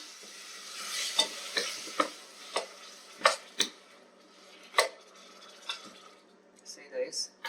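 Tomato being stirred in a pan with a light sizzle underneath, as a utensil scrapes and clinks against the pan in a string of sharp, close taps and knocks, with quieter gaps between them.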